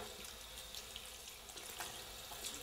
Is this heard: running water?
yes